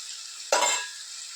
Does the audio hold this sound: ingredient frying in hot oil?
yes